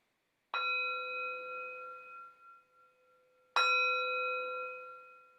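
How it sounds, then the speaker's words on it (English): A meditation bell struck twice, each a clear ringing tone with a sharp attack that hums and slowly fades; the second strike follows about three seconds after the first, alone in a quiet room. "I can ring my bell"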